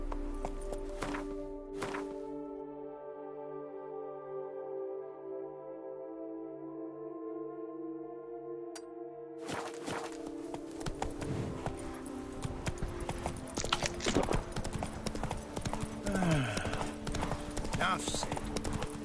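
Horse hooves clip-clop in The Witcher 3, a rhythmic walking beat close by over game music and ambience, with a brief quiet stretch in the middle and louder hoofbeats and movement afterward.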